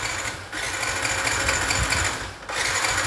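A motorcycle engine runs steadily with a dense mechanical rattle, briefly dipping twice as the throttle eases before surging back.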